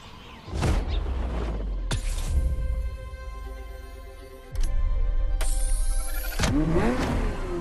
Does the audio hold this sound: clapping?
no